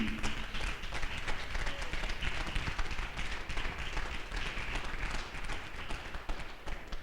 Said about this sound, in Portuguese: Então dá um palmas para Jesus aí.